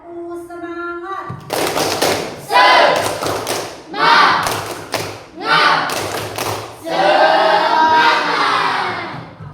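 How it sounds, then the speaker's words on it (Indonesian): Classroom of children performing the rhythmic tepuk semangat spirit clap, loud near bursts of clapping and group chanting voices in several repeated phrases after a teacher's brief spoken cue. "Tepuk semangat."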